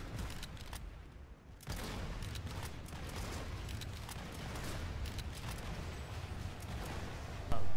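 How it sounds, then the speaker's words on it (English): TSAR-42 rifle shooting in Planetside 2, bursts of sharp gunfire over a busy battle din, with a short lull before the firing resumes and a loud hit at the very end. "this rifle does not like shooting"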